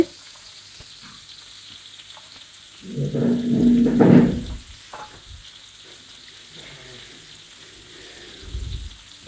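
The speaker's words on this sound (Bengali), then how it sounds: "আবারও নেড়ে চেড়ে দিচ্ছি। দেখতেই পাচ্ছেন কি সুন্দর ভাজা হয়ে গেছে।" Sago pulao sizzles in a pan as it is stirred, a low, quiet fry that surges into a louder scraping, crackling burst midway and then settles back to a faint sizzle with a few soft knocks.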